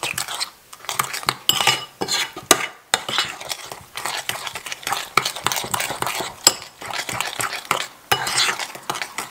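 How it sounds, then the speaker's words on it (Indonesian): Batter of Milo powder, sweetened condensed milk and hot water stirred in a bowl for Milo ice, brisk irregular scraping and clinking of a spoon against the bowl, close and continuous with no voices. "Kita aduk sampai rata."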